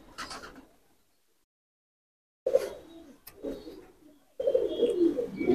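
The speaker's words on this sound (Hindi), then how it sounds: "ओरिजिनल देवबंदी कबूतर।" Low, soft coos of Deobandi pigeons in a few bursts separated by silence, fairly close, with a little rustling.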